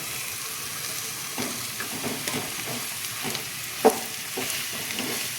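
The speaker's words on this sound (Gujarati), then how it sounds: "બટેટા હતા તેને મેં મેશ કરી લીધા છે, તે એડ કરી દઈશું" Mashed potatoes for aloo paratha filling are stirred into a hot sizzling pan, with soft scraping and one sharp knock of the utensil partway through, and no voices.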